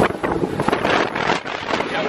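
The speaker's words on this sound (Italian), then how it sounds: "C'è un po' di vento, giusto un po'." Wind buffets the microphone outdoors just after arrival in Lisbon, a loud, close, continuous roar with gusty swells lasting about two seconds and no voices over it.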